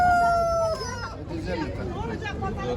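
Roosters crow at a busy chicken market in Kırıkkale, one long crow up close at the start and further calls through the crowd, with people chatting and talking over them throughout.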